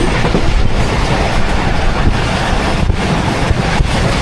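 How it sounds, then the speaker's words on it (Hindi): The 43F Shah Hussain Express running through Firoza railway station, a loud, steady rush of rolling wheels and rail noise mixed with buffeting wind, no voices heard. "फिरोज़ा रेलवे स्टेशन से थ्रू पास कर रही है 43F शाह हुसैन एक्सप्रेस"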